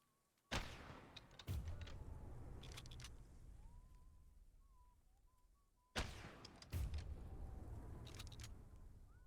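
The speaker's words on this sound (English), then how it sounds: "all the explosions that are happening" Explosions in the video game Choo Choo Charles land as two pairs of heavy booms with low rumbling tails, separated by quieter stretches where a faint whistled tune drifts in the background.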